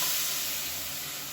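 Blended tomatoes hitting hot oil in a pan for a black-eyed pea masala curry, a loud steady sizzling hiss up close that fades slightly over about a second.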